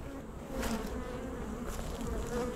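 Honey bees buzz steadily and fairly loudly around Apimaye hives during a treatment with an Instantvap 18V vaporizer, a dense continuous hum that swells slightly now and then.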